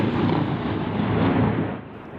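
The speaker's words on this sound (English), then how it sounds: "An explosion in the distance as Russia's war with Ukraine closes in on the city." Shelling in Sumy, Ukraine, during the Russian war produces a distant explosion, a broad muffled rumble that swells and lingers for a couple of seconds before fading.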